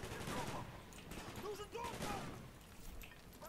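Sustained minigun fire rattles through a Call of Duty Black Ops game battle, dense and continuous with whistling tones weaving through, under intermittent voices.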